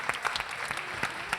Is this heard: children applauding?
yes